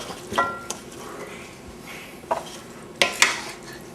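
Carrot chunks being stirred into a pot of beef stew, with soft scraping and a few sharper clinks of a utensil against the pot, close and fairly quiet over a faint simmering background, with no talking.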